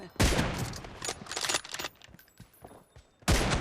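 Rapid bursts of gunfire in a PUBG match, a loud volley at the start, scattered sharper shots through the middle and another heavy burst at the end, close and dominant with no talk.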